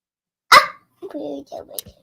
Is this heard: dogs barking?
yes